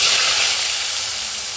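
Pieces of fish dropped one by one into hot oil in a kadai, frying with a steady, close, bright hiss that is loudest at first and settles slightly, with no talking.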